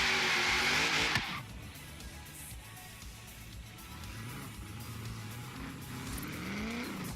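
Car launching down a drag strip in Forza Horizon 3: a loud burst of tire squeal and engine roar, then a lower sustained engine drone as the car accelerates away.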